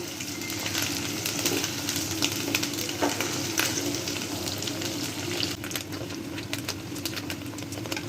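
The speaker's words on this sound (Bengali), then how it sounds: "এরপর পেঁয়াজটা ভালো করে নাড়াচাড়া করে আমি এর মধ্যে সবগুলো মশলা দিয়ে দেব।" Onions fried and stirred in a pan for a rohu fish korma: a loud, even sizzle continues without a break, with occasional scrapes and taps from the stirring utensil.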